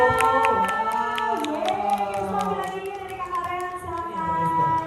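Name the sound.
audience applause for Kristo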